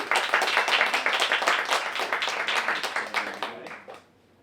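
Audience applause for author David Swinson at a summer literary festival crime-fiction reading, a dense burst of clapping from a crowd that holds steady for about four seconds and then tapers off.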